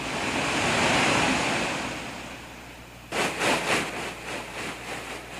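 Spring water gushes out of lava rock at Idaho's Thousand Springs, fed by the Snake River Plain Aquifer. It makes a steady broadband roar that turns into a pulsing, surging rush partway through.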